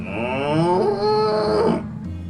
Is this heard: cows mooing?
yes